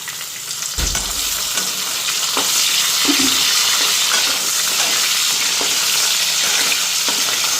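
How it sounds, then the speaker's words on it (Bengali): Cumin seeds, dried red chillies and bay leaf frying in hot oil, giving a loud, steady, close sizzle with a sharp burst of spitting at the start and light stirring clicks throughout. "একটু জিরা ফোড়ন আর শুকনো লঙ্কা এই যে এখানে শুকনো লঙ্কা দিলাম আর তেজপাতা"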